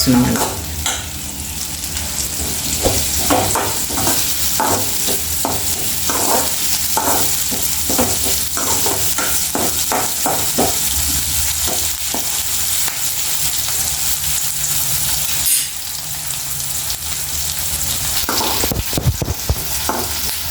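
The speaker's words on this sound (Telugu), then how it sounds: "ఇదో మనం ఇదే ఆయిల్లో ఫ్రై చేస్తున్నాం కదా" Bitter gourd slices frying in hot oil while being stirred: a loud, close, continuous sizzle with repeated scraping stir strokes throughout and no voices.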